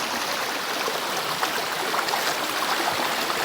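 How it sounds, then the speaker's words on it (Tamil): Steady rushing water of a forest stream at Thada Falls, a dense continuous wash of splashing and gurgling, loud and close with no voices. "நல்லா தண்ணி ஓடி வர்றதெல்லாம் அழகாக இருக்குது"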